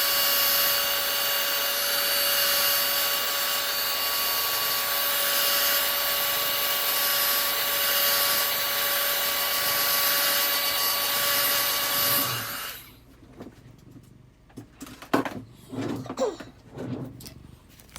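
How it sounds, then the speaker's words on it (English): A heat tool blasts a loud, steady whoosh while drying watercolor paint before gum paste is removed, running continuously for about twelve seconds and then cutting off abruptly, leaving quiet handling noises afterward. "I'm going to hit this with my heat tool and dry this up a little bit before I take off my gum paste."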